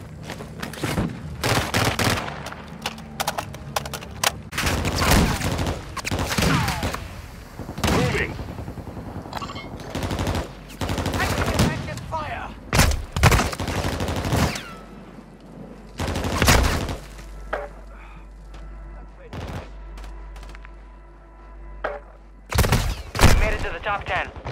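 Gunfire in Call of Duty: Modern Warfare II comes in heavy bursts: sharp rifle shots and rapid automatic volleys with booming impacts, separated by brief quieter gaps, with radio-style voices talking in between.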